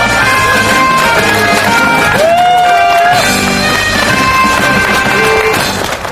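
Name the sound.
rally crowd applauding the union chairman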